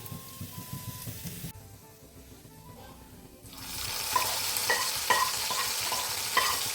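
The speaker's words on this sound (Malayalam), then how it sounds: "നമുക്കിത് കറിയിലോട്ട് ഒഴിച്ചു കൊടുക്കാം." A hot tempering of fried onion and fenugreek seeds is poured into a fish curry. After a quiet stretch, a loud, sudden sizzle bursts out and keeps crackling to the end.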